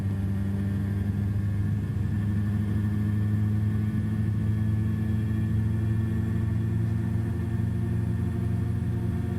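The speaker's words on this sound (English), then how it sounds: "Let's go ahead and pick her back up into a hover, and we'll hover taxi on forward to the runway" Helicopter lifting into a hover and hover taxiing forward toward a runway, a steady loud rotor and engine drone with strong low harmonic hum that stays constant throughout, nothing else heard.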